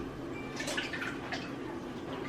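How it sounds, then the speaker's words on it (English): Sauce poured over Italian sausages in a pan gives a soft, steady liquid glugging and dribbling, close and moderately quiet, continuing throughout. "I'm just gonna pour this over top right here, just like this"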